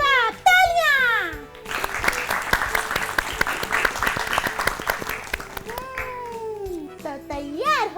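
A group of children breaks into lively clapping and cheering for a correct answer in a classroom quiz show, the applause running for several seconds between bursts of an adult voice speaking.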